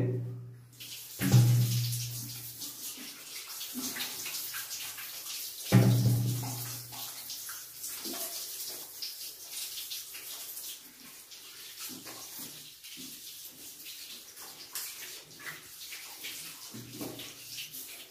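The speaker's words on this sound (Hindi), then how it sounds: "हम हाथों को पहले इस तरह धोएंगे।" Water runs from a tap while hands are washed, a steady faint stream with occasional louder splashes and thumps at close range.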